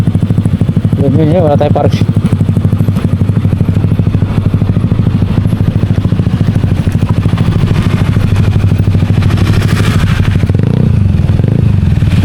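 A motorcycle engine chugs steadily and close by in a parking area, a rapid even putter under intermittent clatter and scraping, with people talking over it.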